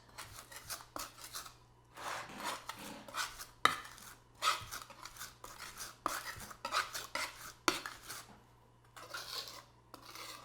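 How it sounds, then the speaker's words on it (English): A knife scrapes and mashes against a cutting board to work ingredients into a paste, giving repeated close, gritty rasping strokes in uneven bursts separated by short pauses. "I use my cutting board a little bit like a mortar and pestle and knife and create a little paste."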